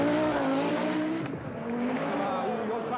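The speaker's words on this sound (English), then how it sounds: "Blomqvist nevertheless holds 4th place on only his 2nd appearance in the short wheelbase Quattro Sport" Short-wheelbase Audi Quattro Sport rally car at the 1985 Rallye Monte-Carlo, its engine loud and close, pitch rising and falling as it revs through gears, with a brief tire squeal in the middle and a commentator talking over it.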